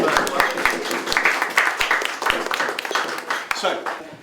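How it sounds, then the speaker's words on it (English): A gathered audience at an arts project epilogue applauds in a dense patter of clapping with some sharper individual claps standing out, while voices carry over the applause. "So a round of applause, the first one"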